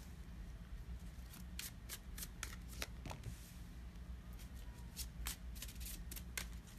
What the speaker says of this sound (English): I'm going to lay a few cards out and then I'm going to go into oracle cards for everybody.